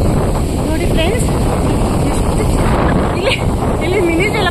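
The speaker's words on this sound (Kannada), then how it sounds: "ಇಲ್ಲಿ ಮಿನಿ ಜಲಪಾತ ನೋಡಿ, ಇದು ಹೆಂಗೆ ಹರಿತಾ ಇದೆ" A small waterfall at the Tungabhadra dam gives a steady, loud, unbroken rush of flowing water, partly blended with wind buffeting the microphone, and faint voices appear now and then.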